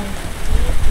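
Rain pours down steadily with gusty wind rushing underneath during a typhoon in the Philippines, a dense, noisy wash that swells toward the end.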